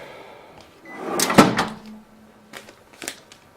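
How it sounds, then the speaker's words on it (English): A POS cash drawer slides shut with a thud and rattle, followed by a few faint clicks and knocks, close by with no talk. "And let's close the drawer."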